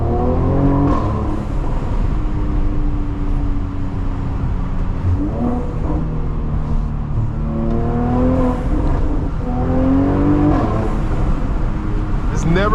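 A modified Mercedes-AMG C43 with aftermarket intakes drives, its engine droning steadily with repeated rising revs and gear changes, heard from inside the cabin.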